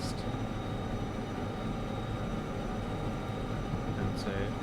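Locomotive in the Derail Valley train game, a steady low rumbling drone of a running engine and rolling stock, even and continuous, with a faint higher squeal near the end.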